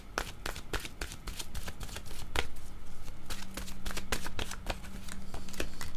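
A deck of cards is shuffled in quick repeated riffles and snaps, crisp and close, with a steady rhythm throughout and no talking over it.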